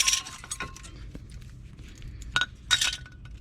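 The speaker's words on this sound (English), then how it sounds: "Let's go ahead and pull these brake pads out." Brake pads are pried out of the caliper on a 2004 Chevy Impala 3.4, giving a few sharp metallic clinks and scrapes, close up, with quiet gaps between them.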